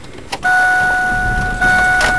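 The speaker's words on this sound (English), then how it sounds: "I can roll my window up and cut the car on" Parked car with its window closing and engine running, heard as a loud, steady electric whine and hum starting abruptly with a brief dip partway through, close up inside the car and with no talking.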